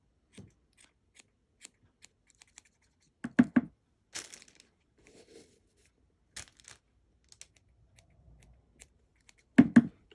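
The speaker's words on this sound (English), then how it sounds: "I've already trimmed it, so I'm just going to match up what's there with what's already been trimmed" Scissors make sparse, crisp snips while trimming reborn doll hair, with quiet gaps between short clusters of cuts and faint rustling in the background.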